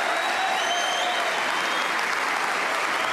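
A packed Waterfront Hall crowd roars with applause as Kyren Wilson completes a century break in the Northern Ireland Open snooker final: loud, dense, continuous clapping filling the whole moment without a break.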